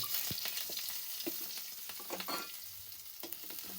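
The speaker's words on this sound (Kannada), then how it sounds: "ಮೆಣಸಿನ್ಕಾಯಿ ಶುಂಠಿ ಬೆಳ್ಳುಳ್ಳಿ ಹಸಿಮೆಣಸಿನ್ಕಾಯಿ ಚಕ್ಕೆಯನ್ನು ಹುರಿದಿಕೊಳ್ಳಿ" Chillies, green chillies, ginger, garlic and cinnamon fry in hot oil for a pea masala curry, a dense close sizzle with crackles and the scrape of a stirring spoon, no talking.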